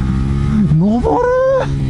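Car tires rolling on a dark road surface during a night drive up a mountain pass near Mount Fuji, a loud steady road roar with a rising and falling engine tone.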